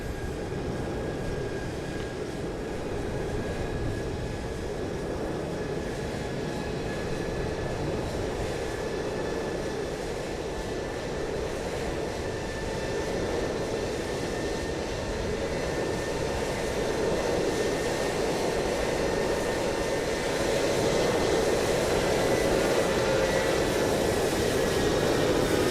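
Engines of an Etihad airliner roar in a steady, continuous drone at night at London Heathrow, as rendered in Microsoft Flight Simulator 2020, with no voices.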